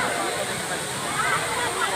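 Rushing water at Sai Yok Noi Waterfall in Kanchanaburi, Thailand, pours over stepped limestone in a loud, continuous, near hiss.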